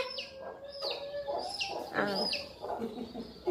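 A chick clucks and peeps in short repeated calls close by, with faint background voices of people talking softly.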